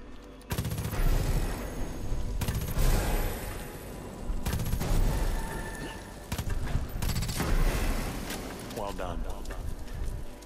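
Dense, loud bursts of machine gun fire in Far Cry 5 come in long rattling volleys broken by short pauses, with a voice talking over parts of the gunfire.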